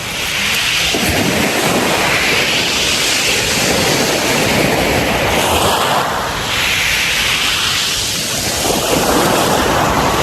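Loud ocean surf at Brighton beach, heavy waves roaring and crashing close by in a continuous wash, mixed with strong wind buffeting the microphone, and no talking.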